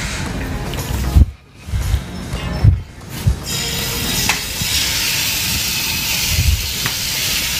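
Marinated chicken tikka boti fries in a pan with a steady broadband hiss and sizzle that runs throughout, broken by a few brief bumps and quieter gaps, with no talking.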